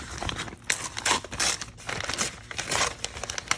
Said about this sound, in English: It's folded already in half, and then you tear it in half.